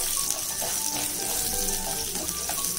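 Chopped onion fries in a few tablespoons of oil in a pan, a steady close hiss and crackle that continues without a break.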